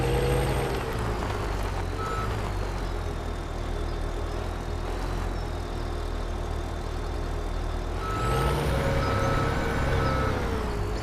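A dump truck in Farming Simulator 2017 reverses with a steady, repeating backup beeper over a loud, constant diesel engine drone and a faint hiss of air near the end.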